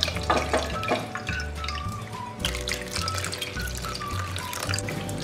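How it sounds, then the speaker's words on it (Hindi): Clean water runs and splashes over fresh chhena held in a cloth, rinsed during rasgulla making. A steady tap-like pour and trickle continues throughout with small drips. No one speaks. "अब हम इसे साफ पानी से धो लेंगे"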